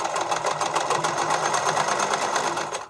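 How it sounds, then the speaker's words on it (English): A sewing machine zigzag-stitches spandex bikini string, its needle hammering in a fast, even, loud rhythm that runs continuously before stopping abruptly at the end. "Now you're going to set up a zigzag, and without crossing over the straight stitch, you're going to sew to close the two ends together,"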